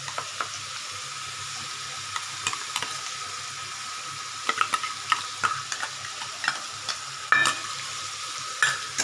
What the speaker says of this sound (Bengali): এই টমেটো পেস্টটা কাঁচা লঙ্কা পেস্ট আমি দিয়ে দিলাম